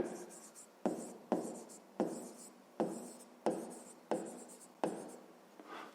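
Pen strokes scratch across paper in a steady rhythm, about eight distinct close, quiet strokes, each starting with a sharp onset and fading out, as numbers are written out for a fifth-grade math exercise.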